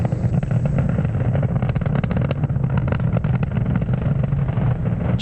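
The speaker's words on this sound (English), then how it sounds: "we do throttle down the M1D engines briefly to reduce the loads on the vehicle" Falcon 9 rocket with Merlin 1D engines climbing through the atmosphere near max Q, heard as a steady, loud, dense rumbling roar with crackling texture that holds without a break for the whole stretch.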